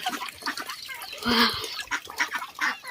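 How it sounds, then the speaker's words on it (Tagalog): Chickens and ducks at feeding time on a farm, giving close, overlapping clucks and short quacking calls in an irregular rhythm, one louder call rising in the middle. "Magpakain tayo ng manok, itik, pato."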